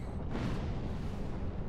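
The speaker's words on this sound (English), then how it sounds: "As the explosions fade in the distance." Distant explosions in Dark Souls II roll out as a dense, low rumbling boom that fills the short stretch and stays steady without clear separate blasts.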